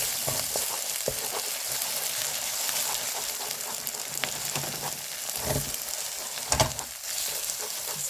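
An egg sizzles and crackles in an oiled frying pan while being stirred into a scramble, steady close frying hiss with occasional sharper pops and spatula scrapes.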